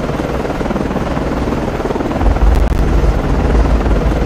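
SH-60 helicopter in the naval game Cold Waters, a loud, steady rotor drone that grows heavier and deeper partway through, with no talking.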